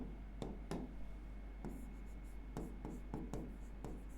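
Chalk or marker strokes on a board during a chemistry lecture, a series of quick, sharp scratchy strokes at an uneven pace, near but faint, over a low steady background hum.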